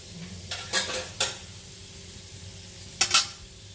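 Hot mustard oil sizzles softly in a pan as a ground spice paste is added, with a few sharp bursts of spattering, plus brief clinks of a utensil against the pan.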